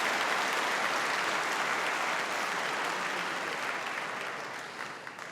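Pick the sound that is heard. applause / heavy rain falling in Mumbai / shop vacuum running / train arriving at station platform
applause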